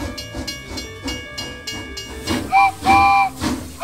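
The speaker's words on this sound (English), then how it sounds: "The train is departing now." A cartoon steam train whistle shrieks in two loud blasts, following rhythmic chuffing and hissing from a departing locomotive.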